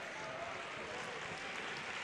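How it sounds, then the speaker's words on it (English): A crowd applauds at the end of a high school basketball game between Wheelersburg and West in 2018, a dense, steady wash of clapping and crowd noise that holds evenly for the whole moment. "As the teams start to stand up and applaud"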